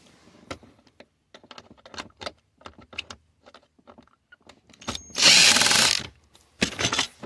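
A power drill backs a Phillips screw out of the lower dash of a 2000-2004 Subaru Legacy/Outback or Baja, starting with light clicks and handling taps, then a loud close whir of about a second and a shorter second burst.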